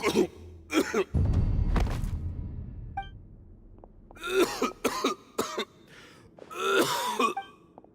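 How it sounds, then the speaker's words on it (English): A man in a video game coughs harshly several times in bursts, with groaning breaths and a low whooshing rumble between the fits. Close and fairly loud. "Why is he coughing so much?"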